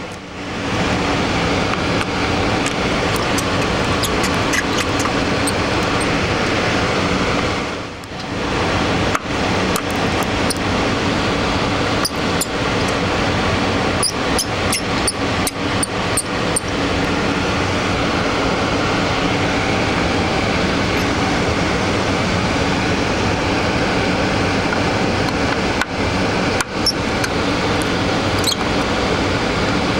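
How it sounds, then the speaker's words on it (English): Air rushes steadily through a data recovery clean room where a Western Digital hard drive is being worked on, a loud, even broadband hiss with a few brief clicks and a short dip partway through, no one talking. "the noise you hear in the background is actually the air rushing through our clean room environment here"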